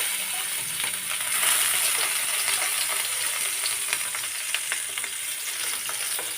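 Pieces of fish fry in a pan for a tomato fish-head curry, giving a steady close sizzle with a constant bright hiss and scattered small crackles and pops, with no talking.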